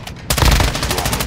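A burst of gunfire in Call of Duty DMZ cuts in sharply after a brief quiet moment, then continues as loud, rapid, close shots.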